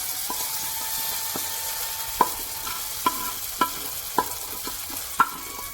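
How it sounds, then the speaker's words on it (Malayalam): Steady frying sizzle as tempered mustard seeds are added to a green plantain curry, with a ladle clinking and scraping against a pan several times, stirring at an irregular pace, close up. "കടുക് താളിച്ച് വെച്ചിട്ടുണ്ട് അപ്പോൾ അത് നമുക്കിതിലേക്ക് ആഡ് ചെയ്യാം"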